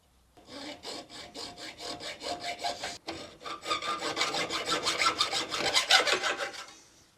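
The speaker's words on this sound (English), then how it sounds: "Hacksaw," A hacksaw saws steadily in a long run of even back-and-forth rasping strokes with one brief break, close and moderately loud and growing slightly stronger, no voices.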